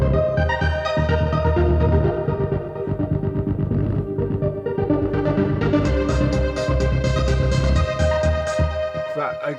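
A self-made dance track leaning toward trance plays back steadily and loudly, with dense layered synths, sustained chords and a driving beat throughout, no voices over it.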